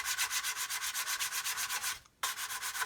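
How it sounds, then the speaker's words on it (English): Close, rhythmic rubbing strokes of a hard sanding stick on plastic, fast and even, with one brief pause near the end before the scraping resumes. "we're just sanding it all away anyway. Again, I'm using a hard stick, not a sponge"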